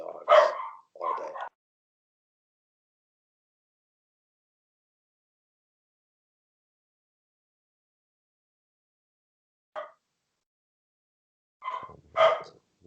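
Dogs bark in short bursts, two quick barks together at the start, then long silence, then a single yip and another pair of barks near the end, fairly close and moderately loud.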